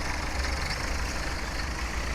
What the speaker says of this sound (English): So as we bring this tractor down to the combine,